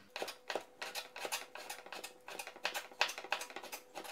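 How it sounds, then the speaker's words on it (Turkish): A knife cutting meat into thin julienne strips on a board for japchae, with quick, evenly spaced close taps and slices in a steady rhythm, quiet and without talk. "etlerimizi julienne doğruyoruz"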